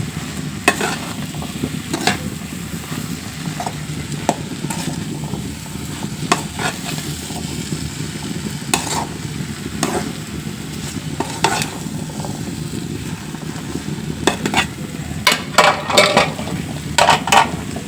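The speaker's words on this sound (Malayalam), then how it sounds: "ഇനി നമുക്ക് ഇതിലേക്ക് ഒരു പിടി തേങ്ങ വെതിരി കൊടുക്കാം മക്കളെ ഇത് നന്നായി നമുക്കൊന്ന് യോജിപ്പിച്ച് കൊടുക്കാം" Grated coconut being stirred into a bean and ivy gourd thoran in a pan, with a steady soft sizzle and scraping plus intermittent clinks of a spoon against the pan, no talking.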